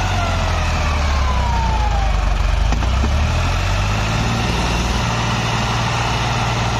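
A New Holland 3600-2 tractor's engine drones loud and steady as it strains to pull a stuck HMT 3522 tractor. The low rumble is constant and wind-buffeted, with a faint higher whine in the background.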